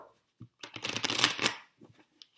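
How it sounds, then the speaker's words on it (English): A deck of tarot cards is shuffled in one brisk riffle lasting about a second, close up and crisp, with a few light card taps before and after and no voices. "let me just give another shuffle"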